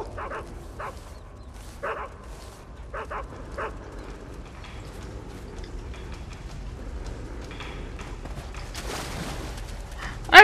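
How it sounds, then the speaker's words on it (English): Dog in Metal Gear Solid 3 giving several short, sharp barks and yips in quick bursts, followed by fainter whimpers and scuffling over a low background hum. "I'm getting hounded by doggy!"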